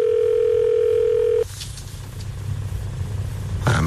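A steady telephone line tone sounds loud and unbroken while a call is placed, then cuts off abruptly, leaving low room rumble and a few faint clicks and noises.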